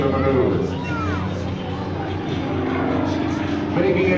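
Propeller aerobatic airplane at the 2001 NAS Lemoore Airshow, engine droning and pitching up and down as it maneuvers, heard under continuous commentary from an announcer.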